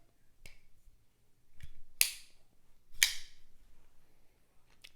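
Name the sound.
TwoSun folding knife blade locking open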